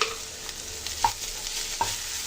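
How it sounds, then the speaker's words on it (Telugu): Radish chutney with tomatoes stirred in a pan as it cooks, a steady low sizzle broken by two sharp spoon scrapes against the pan, close and moderately quiet. "ఇది కూడా కలుపుకొని కొంచెంసేపు కుక్ చేసుకోవాలండి"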